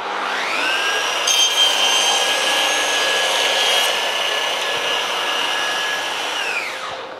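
Festool CS 50 semi-stationary saw making a 45-degree cut in wood: a loud high whine as the blade spins up and cuts steadily, then winds down at the end, with no talk.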